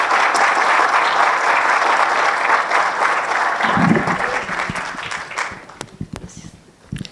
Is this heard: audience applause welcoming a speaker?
yes